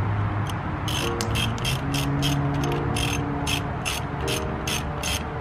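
A ratchet tightens a bolt on a Honda Civic bar for a B20B engine, giving rapid clicking bursts in quick repeated strokes, close and loud over a steady mechanical hum.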